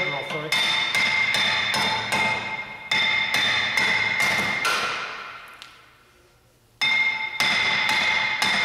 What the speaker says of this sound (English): Then we're just going to hammer the caliper off.